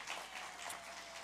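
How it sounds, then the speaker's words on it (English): Audience applause at the Radio Bristol Farm and Fun Time live show, a brief steady wash of clapping heard from a distance at low level. "Give them all a big round of applause."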